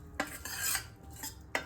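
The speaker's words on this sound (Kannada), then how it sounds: "ಒಗ್ಗರಣೆ ಅದನ್ನು ನಾನು ಮಿಕ್ಸ್ ಮಾಡ್ತಾ ಇದ್ದೀನಿ." Tempering for broken wheat khichdi being stirred in a pan, a few brief scrapes and clinks of a spoon against metal with a faint sizzle underneath, close and quiet, no talking.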